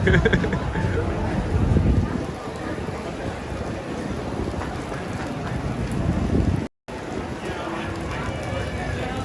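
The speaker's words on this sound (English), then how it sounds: "It's heavy rain now." Heavy rain pours steadily on a Manhattan street in the Meatpacking District, a dense, loud, continuous hiss with voices talking over it.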